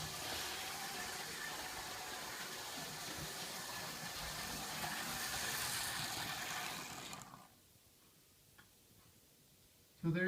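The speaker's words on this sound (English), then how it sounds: "An interesting adaptation at some point of the AC Gilbert 355 from AC to a curious open frame DC motor instead." An AC Gilbert 355 model train, converted to an open-frame DC motor, runs with a faint steady whirring hum that stops abruptly near the end, leaving near silence.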